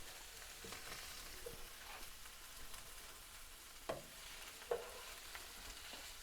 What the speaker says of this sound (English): we're just cooking the onions lightly just so that they becomes a bit see-through